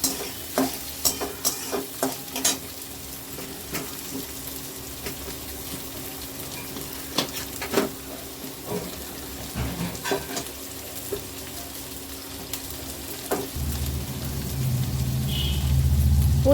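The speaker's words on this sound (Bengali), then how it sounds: "দিয়ে ভালো করে নেড়ে চেড়ে মাংসটাকে দিয়ে কষিয়ে নেব" Meat is stirred and sautéed with tomato and capsicum in a pan, with scattered scraping knocks from the spoon over a soft sizzle. The frying swells louder and hisses more strongly near the end.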